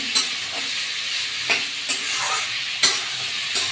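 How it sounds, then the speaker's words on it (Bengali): Taro, potato, tomato and green chilli stirred with spices in a pan over high gas, a steady close sizzle broken by several sharp spoon scrapes and clinks against the metal, no voices. "এই স্টেপে গ্যাসের ফ্লেমটা হাই করে দিলে 2 মিনিট ধরে ভালো করে এই মশলার সঙ্গে কচু আলু, টমেটো, কাঁচা লঙ্কাটা ভালো করে মিশিয়ে নিচ্ছি"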